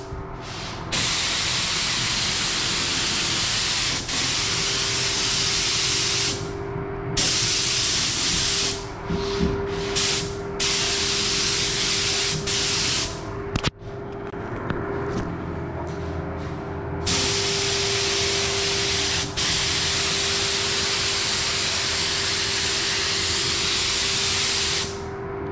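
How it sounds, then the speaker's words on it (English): Steady hissing bursts of a spray gun applying light coats of candy red paint to a car panel, several long passes separated by short pauses, close and loud with a constant hum underneath. "Spraying as evenly as we can"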